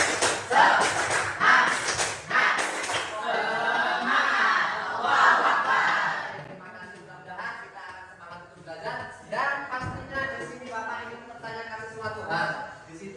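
Classroom students perform a rhythmic spirit clap together, loud group voices shouting and chanting in time with patterned claps, then settling into quieter mixed chatter.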